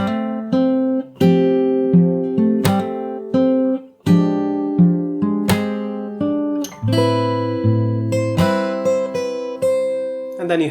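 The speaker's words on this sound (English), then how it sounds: "I'm going to play it once from the start till here really slow." Slow fingerstyle acoustic guitar plays the opening of a song as a steady run of plucked notes over ringing bass strings. A brief voice may sit faintly underneath.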